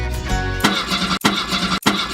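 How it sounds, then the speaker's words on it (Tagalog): A car engine cranks over and over in a radio ad, a steady churning starter whir broken by abrupt stops that never catches, heard up close and loud. "Ayaw buksan ng kotse, bakit walang gasolina?"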